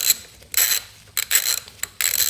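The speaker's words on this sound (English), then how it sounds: "So grab your favorite socket wrench and an 8mm. Make sure you put it to loosen." An 8mm socket wrench ratchets to loosen the brake pad pin on a 2007–2012 Honda CBR600RR motorcycle, giving four short bursts of close, crisp clicking separated by brief pauses.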